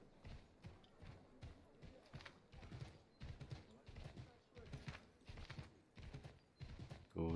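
Horse hooves clip-clop in a steady rhythm throughout Assassin's Creed 3, fairly close, under game sounds and brief voices.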